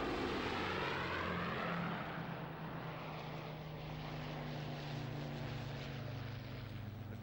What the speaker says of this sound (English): The grand sound of 5 Merlin engines roaring away